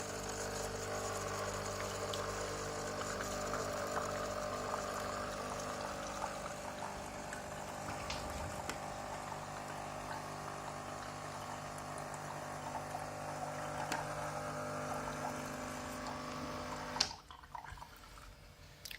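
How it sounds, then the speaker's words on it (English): Hot water pours and trickles steadily from a Nescafe Dolce Gusto Jovia pod machine over a faint pump hum, quiet and continuous before stopping abruptly near the end. "You can see the water is coming down."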